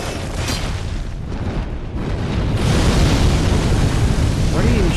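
A boss shooting fire in Dark Souls 3 gives a loud, continuous roaring rumble that swells and grows heavier partway through, with dense low-end booming throughout.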